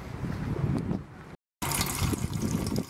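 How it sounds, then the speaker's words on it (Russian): Spring water runs in a thin trickle into a bucket at an August tourist camp by a river, a steady close splashing hiss that breaks off briefly and then resumes. "Набираем тонкой струйкой"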